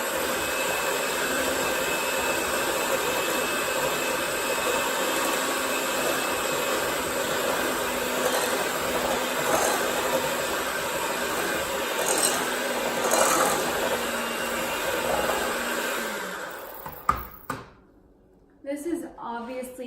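Electric mixer whirring steadily at low speed as it beats powdered sugar into cupcake frosting, a continuous loud drone with rasping overtones that cuts off near the end, followed by a few knocks.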